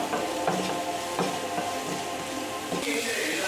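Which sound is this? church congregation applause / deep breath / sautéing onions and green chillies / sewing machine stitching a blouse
sautéing onions and green chillies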